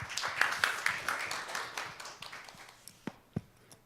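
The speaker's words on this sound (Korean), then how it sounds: "박수로 환영해 주시기 바랍니다" Audience clapping welcomes a speaker at a 2019 university presidents' summit conference in Korea. The quiet, scattered applause thins out and fades to a few last isolated claps.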